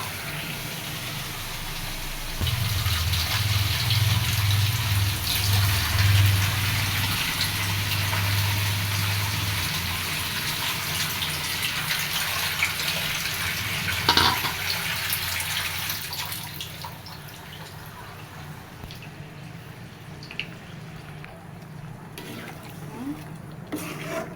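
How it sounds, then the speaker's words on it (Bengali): Water poured into a pot of meat and potato curry makes a steady, close rushing splash that lasts about sixteen seconds, with a low hum beneath the first part, before it fades to a quieter simmering background. "এখন এতে ঝোলের জল দিয়ে দিব।"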